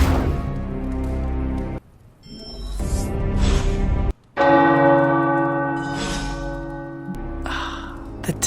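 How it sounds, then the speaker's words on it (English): Tower bells ringing in the video game Marvel Midnight Suns, loud resonant peals that strike repeatedly with long ringing tails, broken by two brief silences before the chimes resume. "The tower bells are ringing."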